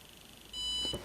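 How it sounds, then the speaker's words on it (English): A Pain Genie electronic pain-relief device gives one clear, steady electronic beep on reaching its lowest power level, sounding alone in a quiet room after a short pause. "eventually we get one beep showing we now reached the lowest power level of 1"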